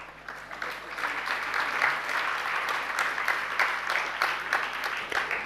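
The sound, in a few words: audience clapping at a sermon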